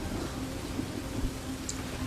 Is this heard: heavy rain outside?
yes